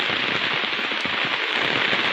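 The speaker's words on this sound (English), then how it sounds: "the heavy downpour of rain" A heavy downpour of rain over Paynesville pours steadily and loudly, a dense continuous hiss with scattered louder drop impacts and no voices.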